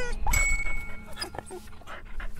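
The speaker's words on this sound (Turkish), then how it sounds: "Ne oluyor lan? Bir köpek." A dog's short barks and yelps come through amid rustling and background noise, with a few sharp, close sounds.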